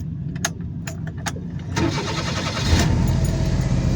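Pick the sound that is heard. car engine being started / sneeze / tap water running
car engine being started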